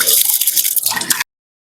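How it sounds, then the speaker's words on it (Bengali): Mung dal lentils swish and drip in water as they are washed by hand, a short close burst of splashing and trickling that cuts off abruptly. "ডালটা পরিষ্কার করে ধুয়ে নিচ্ছি"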